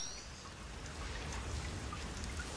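Steady rainfall in a detective video game trailer set in a city of perpetual rain, a continuous soft hiss of falling drops with faint low rumble, no voices.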